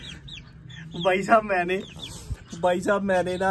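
A hen in a backyard cage during rain clucks in two loud, close bursts of rapid, harsh calls, with a person talking quietly between them.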